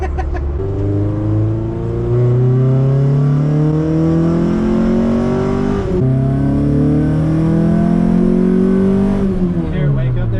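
A swapped Honda Civic engine revs up through rising pitch sweeps, dropping briefly before climbing again and falling off at the end, loud and close inside the car.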